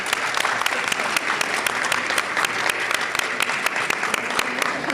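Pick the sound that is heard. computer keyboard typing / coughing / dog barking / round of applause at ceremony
round of applause at ceremony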